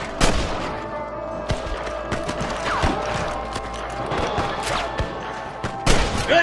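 Gunfire in Red Dead Redemption 2: a run of sharp, loud shots, some in quick succession and others spaced apart, with clattering mechanical sounds between them.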